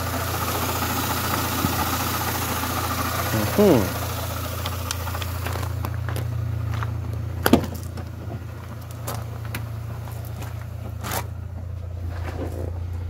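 A MINI One car engine idles with a steady, low rumbling hum, with a few sharp clicks and taps over it; the car is stuck in reverse gear.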